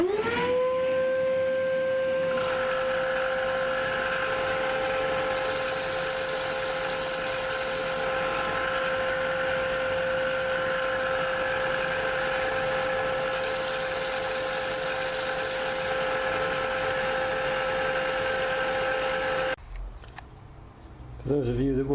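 A noisy workshop dust extractor spins up and runs with a loud, steady motor whine and a rushing airflow roar. It cuts off near the end.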